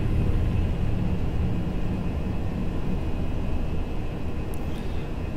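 Austrian Airlines A320 engines powering down the runway on takeoff roll in a flight simulator, a steady loud broadband jet roar and rumble with a faint high whine, constant throughout.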